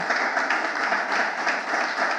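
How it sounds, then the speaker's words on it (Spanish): A church congregation claps together in sustained, dense applause, a steady wash of many hands throughout with no voices standing out. "Denle un aplauso fuerte al Señor."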